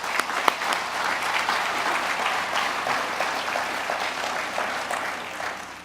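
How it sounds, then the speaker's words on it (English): An audience claps loudly and continuously at an event announcing Blue Origin's arrival at Cape Canaveral, the dense applause holding for several seconds before beginning to fade. "So I'd like to give Frank a big round of applause."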